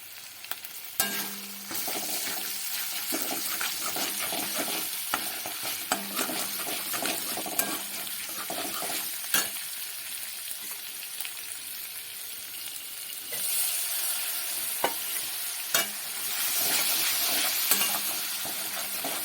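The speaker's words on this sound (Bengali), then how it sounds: "মশলাটা প্রায় ভাজা ভাজা হয়ে গেছে, কাঁচা গন্ধ ছেড়ে গেছে।" Ground cumin paste and spices fry in a pan with sugar, making a continuous close sizzle broken by frequent stirring scrapes and small clinks of a spoon against the pan.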